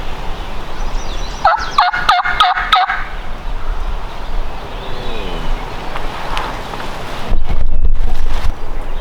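Gusty wind rumbles across open country in New York State as a wild turkey gobbles in a quick rattling burst, fairly clear, followed later by a heavier wind buffet.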